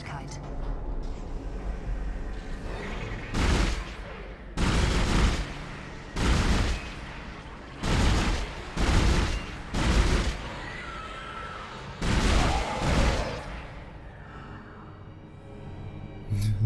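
Bursts of weapon fire from the sci-fi horror game Dead Space during a zero-gravity section, several heavy blasts in irregular clusters over a constant ambient hum, with someone speaking German in between.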